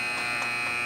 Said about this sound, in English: And that's the buzzer. It'll end the second frame.